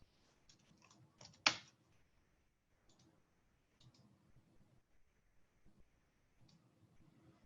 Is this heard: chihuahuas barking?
no